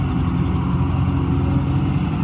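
A 12-wheel lorry's engine idles aboard a ferry as a close, loud, steady low rumble with an even throb and no voices.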